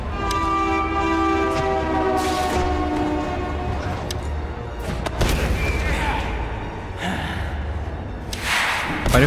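A train and its horn sound in the video game Spider-Man 3. A sustained horn tone opens over rumbling rail noise, then gives way to loud crashes, impacts and grunting effort sounds.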